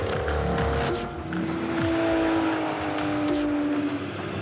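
A high-revving car engine roars steadily and loudly close by, its tone shifting as it accelerates, with faint tire noise mixed in.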